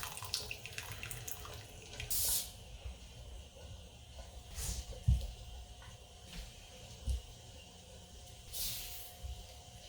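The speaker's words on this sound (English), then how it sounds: "I will very carefully use my jar lifter tool to carefully pour that hot water out of the jars" Hot water poured from canning jars into a kitchen sink, a faint running splash and trickle with a few soft clunks and brief louder gushes along the way.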